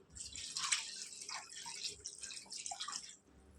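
Water is poured into a simmering cucumber chicken curry, a steady trickling and dripping splash running throughout, close and fairly soft, with no talking.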